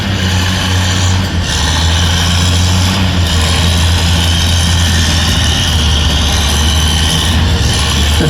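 A vintage pulling tractor's engine roars loud and close under heavy throttle, a dense, steady, rumbling drone with slight surges as it drags about 9,000 pounds of weights at a tractor pull.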